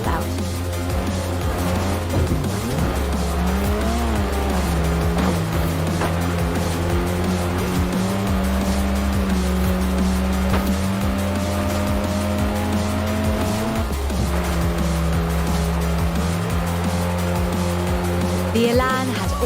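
A Lotus Elan in Forza Horizon 4 is driven hard, its engine droning loud and near as the revs climb and drop through gear changes, with tire squeal through the corners for about twenty seconds.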